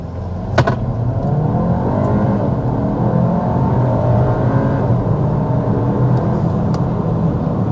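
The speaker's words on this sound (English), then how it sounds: "we need to start with a hard acceleration" A 2026 Audi Q3 SUV engine revs hard and builds steadily through a sustained 0 to 60 acceleration, loud and close, with a continuous drone of rising engine and road noise.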